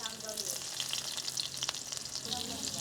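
Onion sautéing in a pan over an outdoor fire, a steady close crackling sizzle with faint stirring scrapes and a brief soft voice in the background.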